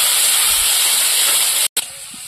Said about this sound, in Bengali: এবার জল দিয়ে মশলাটা ভালো করে কষিয়ে দেবো।